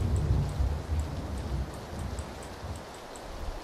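Rain falling in the PUBG Battlegrounds video game, a steady hiss and patter of drops with a soft low rumble underneath and faint repeating high ticks, continuous and without speech.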